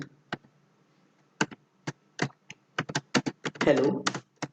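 Java code being typed on a computer keyboard: sparse, irregular key clicks that quicken into a denser burst near the end, close and crisp, with a brief spoken sound mixed in.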